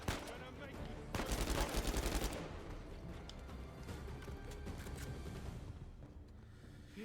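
Pistol fire in Uncharted 4, with loud bursts of gunshots and rapid fire around one to two seconds and continuing combat noise after, under a voice talking.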